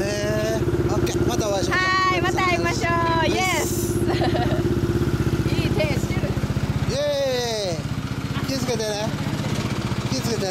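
A 2013 Yamaha Cygnus X scooter fitted with a Bumblebee muffler runs close by with a steady, buzzing exhaust drone throughout. People talk loudly over the engine.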